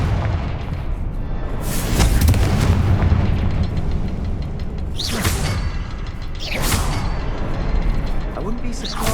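Confringo fire spell cast in the video game Hogwarts Legacy, bursting in heavy booming explosions with whooshing blasts, two or three big impacts rising over a rumbling background of game effects.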